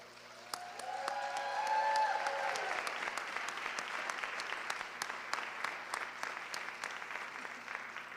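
An audience at a school district awards ceremony bursts into applause that swells quickly and carries on steadily for several seconds, loud and full, with no talking.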